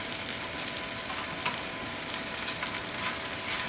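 A spring onion pancake sizzles in oil in a pan over medium-high heat, giving a steady, crackling hiss throughout at moderate volume with no voices.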